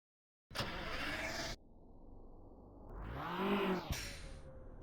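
Virtual expressway traffic in Resonite's Shuto Expressway world: a short engine burst, then a steady drone that swells as a car revs and passes close by, ending with a sharp transient and continued hum.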